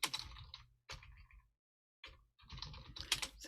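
Bursts of typing on a computer keyboard, close and clear, in three clusters of rapid key clicks separated by short silent pauses.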